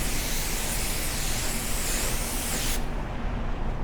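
A spray gun, lightly triggered, sprays reducer onto car paint in a loud, close, even hiss that runs for nearly three seconds before the high airy edge drops away, leaving duller noise; no talk.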